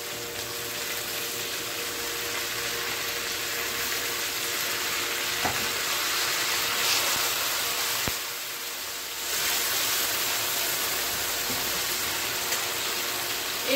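Tomatoes sizzling steadily in a hot pan for a chutney, a continuous close frying hiss with a brief dip near the end, no voices.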